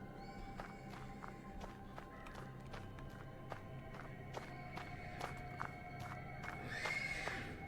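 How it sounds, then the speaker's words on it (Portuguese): A horse in the stables of the video game Black Book neighs faintly over quiet footstep-like clops and a low background bed, with a higher whinny rising near the end. "The persistent neighing of a horse can be heard from the stables."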